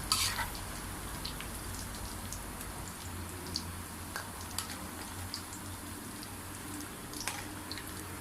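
Fried pork belly scooped from hot oil in a pan, a steady dense sizzle and crackle throughout with scattered small clicks of the scoop, close and even, no talking.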